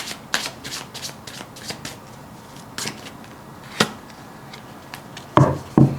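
Tarot cards being shuffled by hand, a series of crisp riffling and flicking bursts scattered irregularly, with two louder, fuller shuffles near the end and quiet pauses between them.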